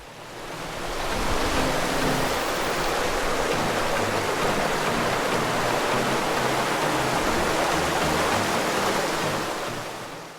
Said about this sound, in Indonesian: suara air sungai